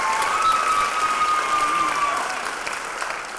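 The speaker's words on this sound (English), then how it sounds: "Please give them a round of applause." An audience applauds the tradesmen and Public Works Department team at a city event, dense loud clapping that fades slightly toward the end, with a sustained tone running through the first part.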